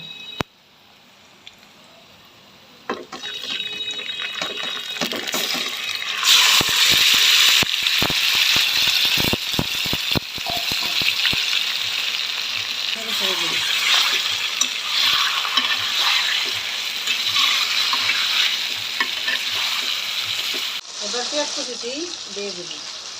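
Chicken pieces go into a hot pan of browned garlic, cumin and cinnamon for a chicken and potato curry. A steady loud sizzle follows, with clattering stirring near the start and someone speaking over it.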